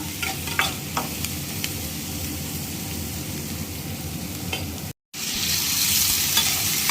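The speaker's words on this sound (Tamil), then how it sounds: "வெங்காயம், பூண்டு தட்டி போட்டிருக்கேன், கருவேப்பிலை போட்டிருக்கேன். இது கலரி கொடுத்துருவோம். வதங்கட்டும் நல்லா." Chopped onion, crushed garlic and curry leaves sautéing in an oiled pan for a South Indian fish curry, giving a steady close sizzle with scattered stirring clicks and a brief cutout near the end.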